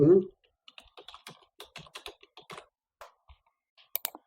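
An email address typed on a device keyboard during setup of the ClassDojo app, a brisk run of close, light key clicks in an otherwise quiet room.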